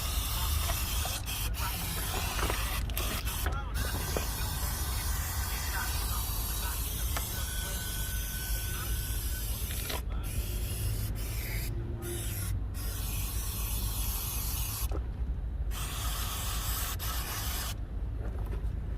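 Steady hissing spray of chain cleaner onto a Kawasaki Z900 motorcycle chain runs almost continuously for many seconds, broken by a few short pauses, loud and close, with no talking.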